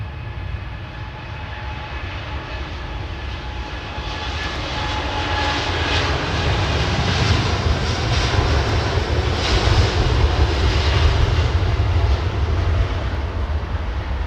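Airliners taking off at London Heathrow Airport, a loud, sustained jet engine roar that builds steadily and holds near, with no voices.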